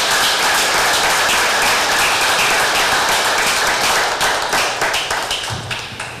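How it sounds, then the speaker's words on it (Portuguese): Dense, close applause from a seminar audience on public cultural policy, a loud continuous roar of clapping that holds steady then gradually thins and softens toward the end. "Eu pediria uma grande salva de palmas para Eleni Guariba."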